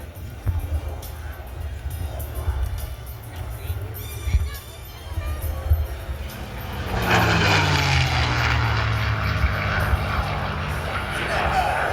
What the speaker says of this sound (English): From the right, listen and learn to the P-51 Mustang.